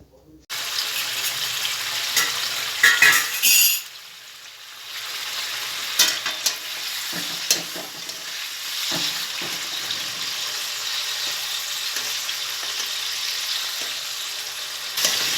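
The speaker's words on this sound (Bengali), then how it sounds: "তেলটা একটু গরম হয়ে গেলে আমি এখানে মাংসের চর্বিগুলো দিয়ে দেব।" Chicken fat sizzles and spits in hot sunflower oil in a wok, a steady bright frying hiss with occasional stirring clatter, close and continuous.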